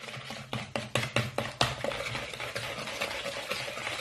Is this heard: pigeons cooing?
no